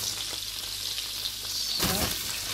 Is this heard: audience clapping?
no